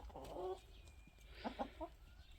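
Several short clucking calls from a rooster or hens, nearby, in a few quick bursts over a steady low background hum.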